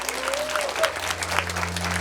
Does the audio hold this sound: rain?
no